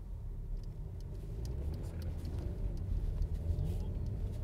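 Car on Michelin CrossClimate all-season tires pulling away from a standstill, presumably on a winter road, with a steady low engine rumble building gently and no voices.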